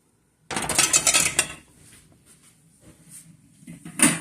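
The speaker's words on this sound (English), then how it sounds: "I just only use a little bit of soap when I'm rinsing the pots." Pots and dishes being rinsed in a kitchen sink with a little soap: a loud burst of running water and clattering cookware, then quieter scattered clinks and knocks, with a final sharp clatter.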